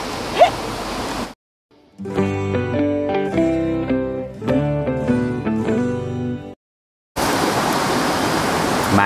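A waterfall at a riverside picnic spot in Chiang Rai gives a steady, loud rush of falling water for about a second at the start and again at the end, with a stretch of music in between.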